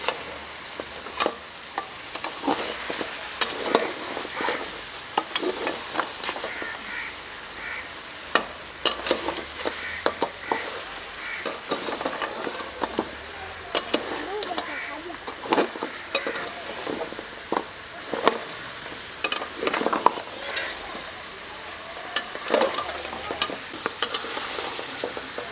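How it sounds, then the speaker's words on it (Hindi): Beef bone marrow curry (nalli ka salan) being stirred and fried in a pan, with a steady sizzle broken by repeated sharp scrapes and clatters of the spoon against the pot, close and continuous with no talking. "इस तरीके से 6-7 मिनट के लिए भून लेंगे"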